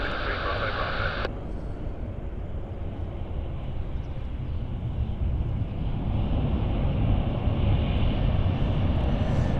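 Fixed-wing aircraft at London City Airport, a steady broad engine roar holding loud and continuous throughout, with a brief tonal whine at the start before the rumble takes over.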